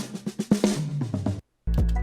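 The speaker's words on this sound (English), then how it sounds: "I also added this drum fill" A quick run of punchy drum hits rolls through a busy beat, building up before a short silence and then a heavy, booming low hit kicks back in.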